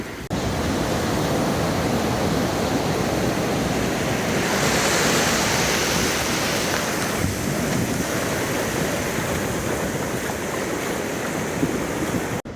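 Steady, full roar of ocean surf breaking on Boca Chica Beach, Texas, continuous and close with a constant wash of spray and no voices.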